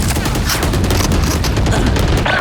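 Rapid gunfire bursts in the tactical shooter video game Valorant, loud and continuous across the whole moment, with a few sharper reports near the end and no talk over it.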